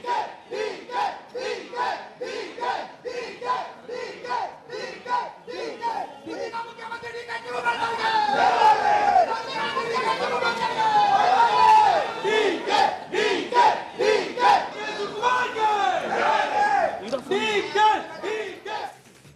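A large crowd of political supporters chants slogans for DK Shivakumar in loud, rhythmic bursts, the chanting swelling into a dense roar of shouting midway before returning to a steady beat.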